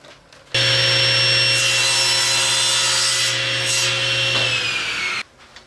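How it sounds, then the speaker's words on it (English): ABS plastic sheet being cut into 1 1/8 inch wide strips with a power saw, a steady loud whining cut lasting about five seconds with a sharp start and stop, no voices. "our next step in this process will be to cut them into 1 1/8 inch wide pieces"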